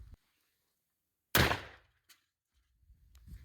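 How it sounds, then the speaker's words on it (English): A cap-and-ball revolver loaded with Tums powder instead of a lead ball fires once at a can: a single loud, sharp blast with a short decaying tail, set in near silence, followed by faint shuffling. "That cap will ignite the powder I put in there, and then it usually shoots the ball out."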